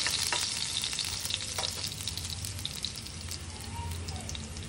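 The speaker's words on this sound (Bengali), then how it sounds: "একটু রসুন আর জিরেটাকে একটু আমি ভেজে নেব, একটু ব্রাউন ব্রাউন করে নেব রসুনটাকে" Chopped garlic and cumin seeds frying to brown in a pan, a bright, continuous hiss with light crackles and occasional stirring, fairly close and steady.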